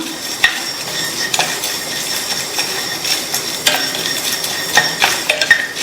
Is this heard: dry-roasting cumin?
yes